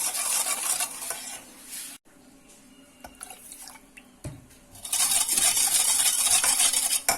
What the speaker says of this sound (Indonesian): Kemudian kita masukkan susu cairnya sedikit demi sedikit sambil kita aduk